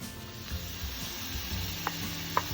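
Onion added to a pan of frying mushrooms sizzles softly and steadily, with a couple of small taps as the food is stirred, heard alone at close range.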